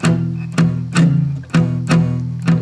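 Five sharp, muted guitar strums struck with the thumb across three strings at once in an even rhythm, each a percussive chunk that quickly decays.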